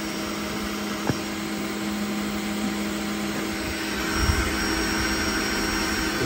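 A Creality K1 Max 3D printer hums and whirs steadily through input shaping calibration, with a sharp click near the start and a low rumble rising toward the end, no talking.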